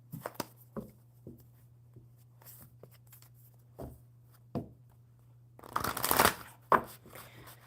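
Playing cards handled during a casual live card session, with scattered soft taps and flicks of cards being set down, then a loud riffle shuffle in a dense burst near the end, followed by a single sharp snap of the deck.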